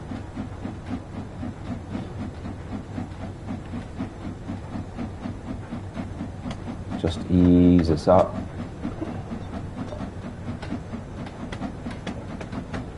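A steam locomotive in Train Sim World 2 chugs steadily through rain with rhythmic puffs and hiss, a brief whistle-like tone sounding midway, while someone talks over it.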